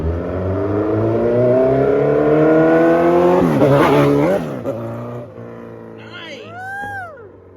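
A Suzuki Hayabusa 1300 motorcycle ridden past, its engine droning loudly and rising in pitch as it accelerates, then fading and dropping off into the distance.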